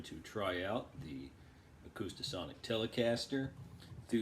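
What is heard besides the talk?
No everyday noises stand out.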